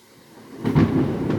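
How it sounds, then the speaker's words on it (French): Thunder during a storm, starting as a faint low hum and swelling into a deep rolling rumble that stays loud through the end, with no talking. "ça c'est le tonnerre qui vient de gronder"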